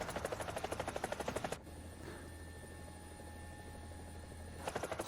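Helicopter rotor and engine drone in War Thunder, a steady loud hum with a rapid rhythmic chopping at the start and end and a smoother, quieter whine in between.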